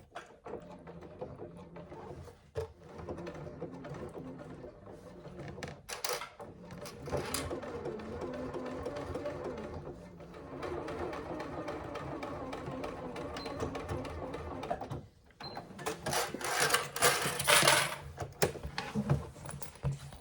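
A sewing machine stitches through the layers of a Rossatron handbag in bursts of fast mechanical whirring, separated by brief pauses and a louder final run, heard up close with no talking.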